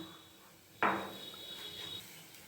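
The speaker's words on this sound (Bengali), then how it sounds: "তার জন্য আমি এই যে এই নোড়াটা নোড়াটা আমি এর ওপরে চাপা দিয়ে দিচ্ছি যাতে ফাঁকা না থাকে" A stone grinding pestle (nora) is set down on a cooking pot lid while making pitha: one sharp, hard knock with a short ringing tail, quiet and close.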